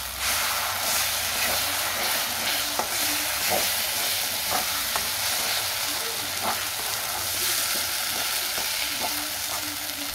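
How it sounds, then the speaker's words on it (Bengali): A mustard, poppy seed and green chili paste fries in hot oil, giving a loud, steady sizzle with faint stirring scrapes throughout. "এরপর তেলের মধ্যে পেস্ট করে রাখা সর্ষে পোস্ত কাঁচা লঙ্কার মিশ্রণটা দিয়ে দেবো"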